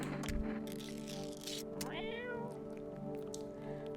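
Inside the video game No, I'm Not A Human, a cat gives a couple of clear meows, one sliding upward, close and moderately loud over a constant droning game soundtrack.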